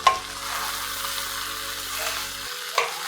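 Cooked rice stirred into a cashew and paneer mixture in a hot pan: a steady low frying hiss with a faint hum, a sharp scrape at the start and another near the end, no talking.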